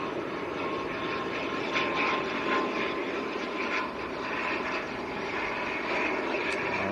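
A Loganair ATR turboprop airliner at Manchester airport, a steady moderate engine drone heard from some distance with a faint airy rush and no talk.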